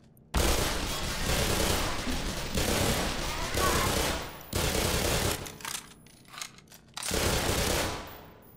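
Soldiers' rapid gunfire in the video game Black Mesa, long dense automatic bursts that stop and start, loud and close, with a few quieter gaps between volleys.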